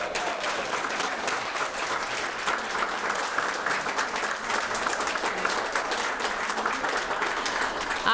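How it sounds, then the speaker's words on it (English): An audience at a historical marker dedication applauds in a steady, even patter of many hands clapping, moderately distant and sustained throughout without voices on top. "I applaud you all."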